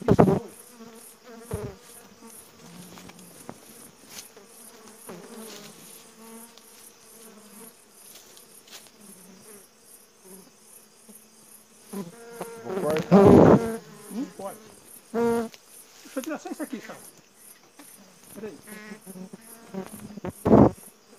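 Honey bees buzz continuously throughout a honey harvest, a dense steady insect drone close to the listener, with occasional louder knocks and handling noises rising over it.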